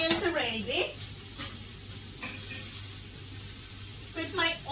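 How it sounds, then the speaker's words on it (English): Charred onions lifted off a hot grill beside steak, a steady close sizzle with scraping and clattering as they are moved, with a voice speaking briefly at the start and end. "I'm gonna remove my onions because my onions are ready"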